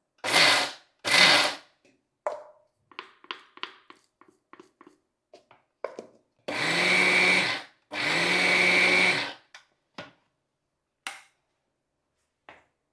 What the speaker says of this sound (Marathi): त्यामुळं ऑन ऑफ करत करत पल्स मोडवर करूया.